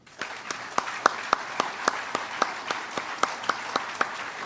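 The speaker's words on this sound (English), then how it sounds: "Let's give him a round of applause." Applause at a military retirement ceremony, a steady, moderately faint patter of hands with sharper, evenly spaced claps standing out in a regular rhythm.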